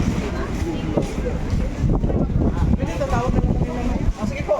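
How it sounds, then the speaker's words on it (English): Strong monsoon wind at Station 3 on Boracay Island, Philippines, buffets the microphone in a steady low roar, with voices and outdoor bustle faintly mixed underneath throughout. "Oh, so windy."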